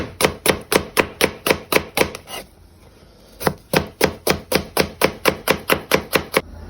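A knife chops onions on a board in rapid, evenly spaced strikes, close and crisp, pausing for about a second midway before resuming at the same steady pace.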